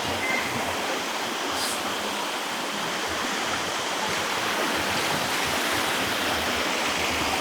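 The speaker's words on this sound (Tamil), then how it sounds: "அதான் தண்ணி நல்லாவே வருதுல்ல" Water stream rushing steadily in the Thirumoorthy Hills near the dam and temple, a loud continuous broadband flow with no pauses and no voices.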